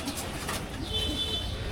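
Racing pigeons at a pigeon racing club loft give a soft cooing call under steady background noise, with a thin, faint high tone partway through.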